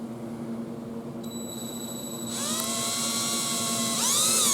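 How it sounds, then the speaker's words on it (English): An electric drill whines up to a high, steady pitch, spinning up again near the end, loud and close with no talking. "Let the drill do the work."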